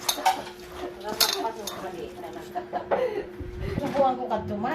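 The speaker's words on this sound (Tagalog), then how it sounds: "Isang tasa at 1/4 at saka breadcrumbs. Mix natin mabuti yan." Flour and breadcrumbs for embotido being mixed in a bowl: quick clinks and scrapes of a utensil against the bowl, close and fairly steady, with someone talking over the mixing.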